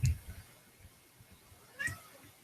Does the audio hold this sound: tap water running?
no